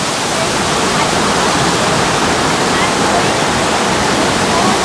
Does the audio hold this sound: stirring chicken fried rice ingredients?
no